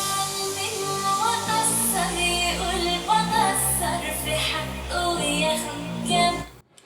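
A full music track plays loud and steady under a wedding film edit, then cuts off abruptly at the end, leaving near silence, with no talking.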